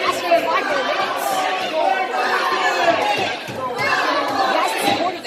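Crowd at a Monroe Wrestling Club event cheering and shouting, a steady rowdy chatter of many voices with bursts of yells, fairly close, under speech from an announcer.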